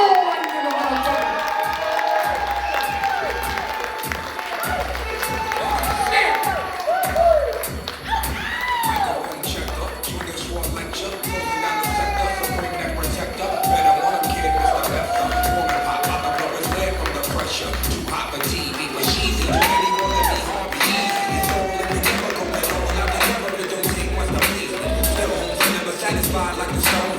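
Open mic crowd cheering, whooping and shouting with scattered claps, a steady dense roar of voices that holds loud throughout, with talk mixed in.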